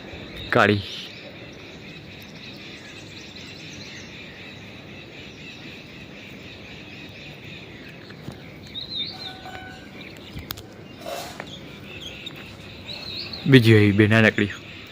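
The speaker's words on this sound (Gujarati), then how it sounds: "આ ઓલી ચકલી છે" A sparrow chirps in short bright bursts around a home window, mostly faint against a quiet room, with a louder cluster of chirps near the end; a person talks at times.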